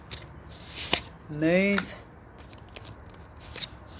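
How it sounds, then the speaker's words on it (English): A deck of oracle cards is shuffled in soft, quick rustling riffles close by, with a short spoken word in between. "I'm getting told to shuffle."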